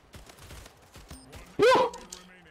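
A short video-game gunfire burst rings out loud and close in the latter half, after quieter clicks and background noise, with a bit of talk nearby.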